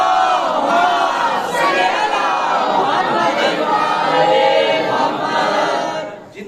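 A large congregation at a memorial majlis gathering loudly recites salawat together, a dense continuous wall of many voices chanting in unison, sustained and near for several seconds before tapering at the end.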